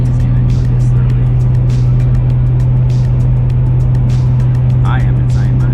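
A Lexus GS300 four-door with a 2JZ-GTE engine runs with a loud, steady low engine drone throughout, with faint higher noises over it.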